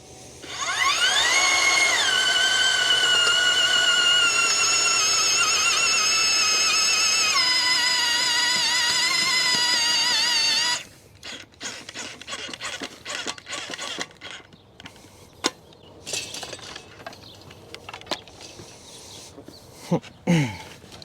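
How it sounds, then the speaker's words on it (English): A 7-inch auger bores a planting hole for an arborvitae hedge, making a loud, steady motor whine that shifts pitch as it bites into the soil, then stops, followed by quieter scattered scraping and knocks. "I'm using the 7-inch auger, and we're just going to aug our hole"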